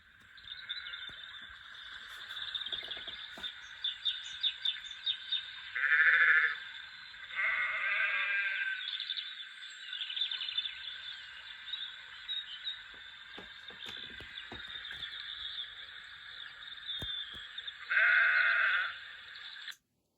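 Countryside ambience plays from a small model railway speaker: a constant chirring of crickets with a few sheep bleats rising out of it, somewhat tinny, without talk.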